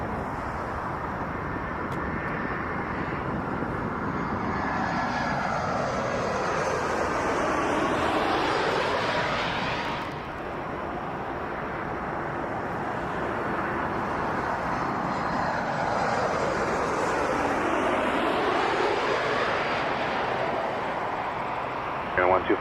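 A LOT Boeing 787-8 Dreamliner takes off, jet engine roar building in two broad sweeping passes with a strong continuous rumble, moderately distant, while voices talk faintly over it.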